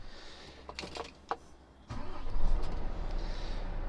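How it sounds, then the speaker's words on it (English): A car engine cranks and catches at the start of a drive from Goole to Scunthorpe, a few faint clicks and whirs giving way to a sudden low, steady idle rumble that fills the rest of the moment, close and fairly loud. "Okay, engine on."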